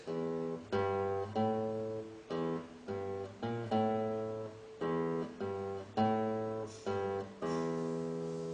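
A plucked guitar riff of low, single-string notes in a steady, bouncy rhythm, clear and close with no talking.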